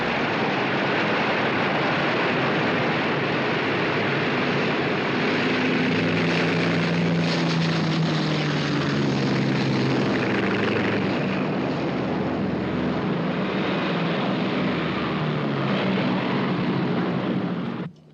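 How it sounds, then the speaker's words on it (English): Two propeller aircraft fly inbound, a steady, loud engine drone with a rising and falling hum in the middle, sustained throughout and then cutting off abruptly at the end. "CIC, 2 unidentified planes inbound at 20 miles."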